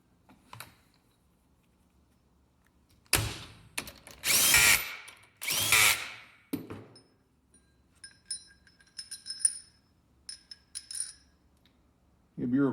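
Dana 44 axle bearing cap bolts tightened on a re-gear with a power tool, two long loud whirring bursts followed by several short clicking and ratcheting taps in a quiet shop.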